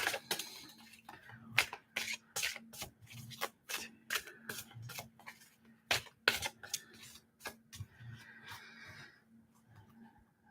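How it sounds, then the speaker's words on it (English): Tarot cards are shuffled by hand in a quiet room, giving a long series of crisp riffling and slapping bursts in an irregular rhythm, close and fairly loud. "Shuffle the cards."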